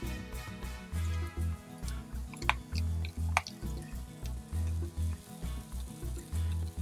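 Chorizo fries in a pan with browned onions, a faint sizzle and crackle with a few sharp spits, under a low, regularly pulsing hum that runs throughout.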